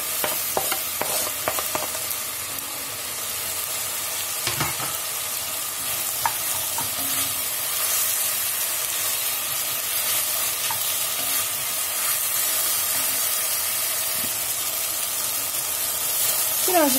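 Chopped celery leaves and stalks sauté in a pot for celery soup, giving a steady close sizzle and hiss with occasional stirring clinks and scrapes throughout, with no talking.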